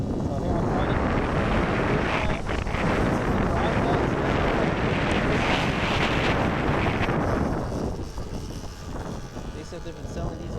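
Wind roar buffets the microphone while riding a Sur Ron Ultra Bee electric dirt bike, a loud continuous rush that eases near the end, with no distinct motor note.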